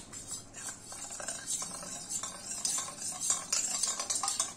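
A spoon stirs cornflour slurry into a pot of chicken dumpling soup, making repeated close, soft clinking and swishing strokes in a steady rhythm with no talking.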